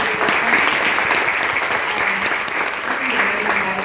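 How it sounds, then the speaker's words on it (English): Audience applause for a team at a women-in-greening talk event, a dense, even wash of clapping throughout with faint voices mixed in. "give a round of applause to the green team"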